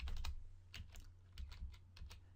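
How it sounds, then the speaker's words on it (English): Quick clusters of keystrokes on a computer keyboard while entering an address into a radius search, irregular bursts of clicks close up over a steady low hum, no talking. "as I'm typing this in"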